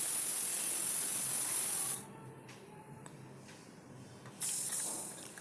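Steam hisses loudly from a pressure cooker after four whistles while cooking a Telangana-style boti and tomato curry, a strong continuous spray that suddenly drops to near quiet for a couple of seconds, then bursts back.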